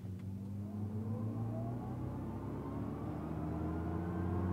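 A 2024 Chevrolet Silverado EV pickup accelerates hard while towing a 5,000-pound trailer, giving a steady rising electric whine over low road rumble, close and sustained without talk.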